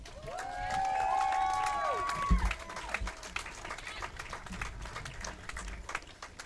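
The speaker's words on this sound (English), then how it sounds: "I want another round of applause for all of our medal winners" A championship arena crowd applauds and cheers for medal winners, with loud whoops and whistles early, then scattered clapping that thins out, heard at a distance with some voices among it.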